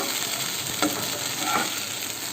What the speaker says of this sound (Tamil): ஸோ கிண்டும்போது கொஞ்சம் பார்த்து கரெக்டாக கிண்டுறோம்